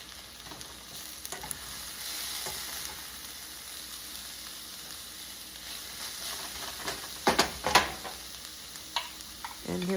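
Meat pie filling with browned meat stirred in a hot pan, a steady close sizzle with scraping spoon strokes and a few sharper clatters near the end, no talking.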